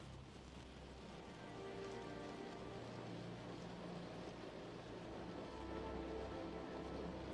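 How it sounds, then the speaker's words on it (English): Steady rain pattering on a surface, a soft continuous wash with a low rumble beneath, even and unbroken throughout, with no voices. "the sound of the rain"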